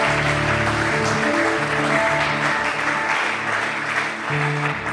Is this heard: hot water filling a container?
no